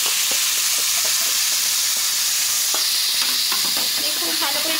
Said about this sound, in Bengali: খুব ভালো করে একটু কষিয়ে নেবো।